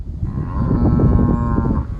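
A cow in a herd being moved on a cattle drive gives one long, loud moo close by, with no talking.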